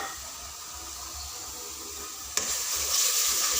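Steady sizzling as chicken is stir-fried in a pot, a continuous crackling hiss that grows brighter and louder partway through, with no voices.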